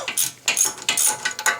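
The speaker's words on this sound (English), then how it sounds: "I used the deep socket 17 on the bottom, straight with the ratchet itself, and just pulled as hard as I could" Ratchet with a 17 mm deep socket working a wheel bolt loose on a 1999-2001 Volvo S60 front wheel, giving several close, bright clicking bursts in quick succession with no talking.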